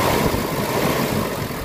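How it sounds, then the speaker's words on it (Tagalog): Gasoline engine of a Mitsubishi Adventure idles roughly with a throttle delay and low power fault, giving a steady, dense, slightly shaky rumble close by with no pauses. "Medyo nangangatal yung andar ng makina."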